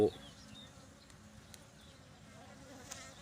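A honeybee swarm clusters on tiles at the front of a bait hive box, giving a faint, steady, continuous buzzing hum with no voices.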